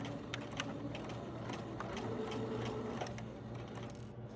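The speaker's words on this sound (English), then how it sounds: "And then back stitch at the bottom." Sewing machine running steadily while back stitching a centered zipper seam, a continuous close mechanical whir with a brief shift in pace partway through.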